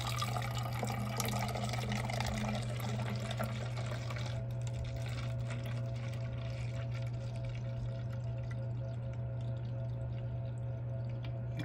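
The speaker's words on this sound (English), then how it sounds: "I'm going to pour half in here." Yeast fertilizer solution poured into a watering container, a steady liquid pour over a constant low hum for several seconds, softening and thinning toward a quieter trickle.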